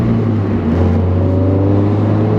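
A car engine holds a steady, throaty drone through the exhaust, with a deep hum and a faint rising whir, continuous and close.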